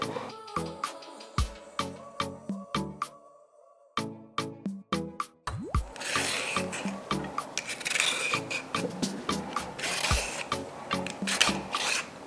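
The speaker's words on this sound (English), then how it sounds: "I'm going to peel my carrots" Carrots being peeled with a hand peeler for oven-roasted root vegetables, a series of close, rhythmic scraping strokes that start sparse and quick, then turn into denser, louder rasping passes.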